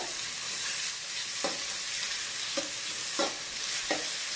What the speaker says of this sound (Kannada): ಇದು ಶುಂಠಿ ಬೆಳ್ಳುಳ್ಳಿ ಪೇಸ್ಟ್ ಕೂಡ ಎಣ್ಣೆಯಲ್ಲಿ ಕರೆಕ್ಟ್ ಫ್ರೈ ಆಗಬೇಕು